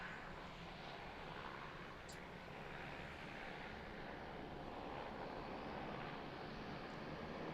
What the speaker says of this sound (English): Thought those engines were revving up again.